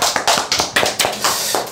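An audience at an insurance telemarketing sales lecture claps briefly, a short burst of loud, close, irregular claps that trails off after under two seconds.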